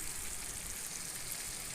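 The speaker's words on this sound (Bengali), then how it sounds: "ভেজে রাখা গোস্তটা ঢেলে দিচ্ছি।" Pre-fried beef tipped into cooked-down spice paste in a hot pan, a steady close sizzle and hiss of frying with no pause.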